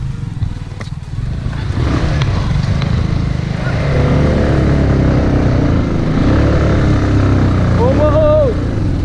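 A motorcycle engine labors uphill on an offroad hillside trail in Idukki, Kerala, with a loud, steady rumble that strains and rises in pitch, while riders talk over it.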